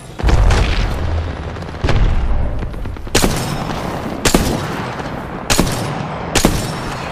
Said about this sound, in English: Arcstar out. Throw an Arcstar.